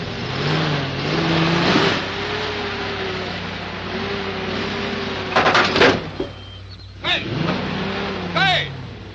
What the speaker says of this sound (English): I'm trying to unpark my car.